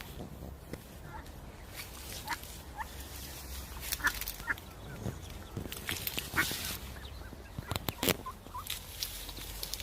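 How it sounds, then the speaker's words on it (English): A wild duck with about six or seven ducklings in a back garden in the UK, giving soft scattered peeps and quacks, faint and intermittent over outdoor ambience. "A duck with about 6-7 ducklings."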